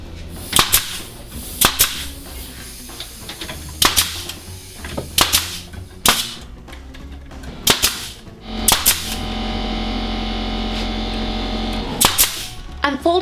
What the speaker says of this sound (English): I'm going to use my staple gun to put the netting into place.